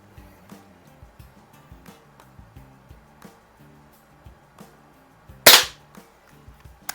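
A spring-powered air pistol, a Predom Lucznik springer, fires once with a sharp, loud crack partway through, preceded by quiet handling clicks and taps at close range.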